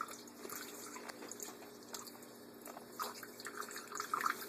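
A parakeet splashes in shallow water, with faint light drips and flicks scattered through a quiet room and a small burst of splashing toward the end.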